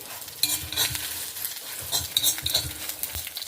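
Mustard seeds sizzle and crackle in hot oil for a jackfruit seed curry, with sharp little pops and stirring scrapes close by, and no talking.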